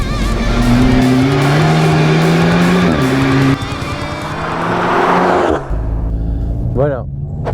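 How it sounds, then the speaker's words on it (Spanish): A VW Caddy fitted with a 360 hp Golf GTI engine accelerates and shifts on a wet race circuit, loud close engine roar rising through the gears, with a blow-off valve release at the end. "El sonido de la válvula de descarga a mí me deja, vamos, me encanta."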